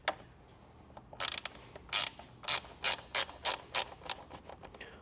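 Bolt on a Tesla tail light loosened with a ratchet tool, a run of sharp ratcheting clicks in quick bursts, close and clear with no talking.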